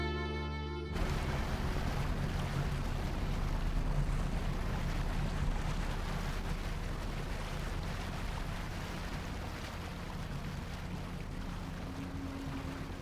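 A boat travels up the Paraná river, giving a steady, dense rumble of engine and rushing water with wind noise that starts abruptly and continues evenly, with no voices.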